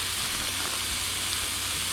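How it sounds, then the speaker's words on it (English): Food sizzling and frying in a pan with occasional small crackles and pops, a steady close hiss running throughout. "Hear that sizzle."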